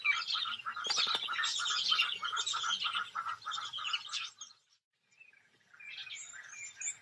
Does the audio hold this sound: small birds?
yes